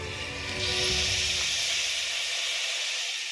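Washed raw chicken drops into a pan of hot frying ginger-garlic paste, setting off a loud, close, steady sizzle that swells after a moment and then holds, with no talking.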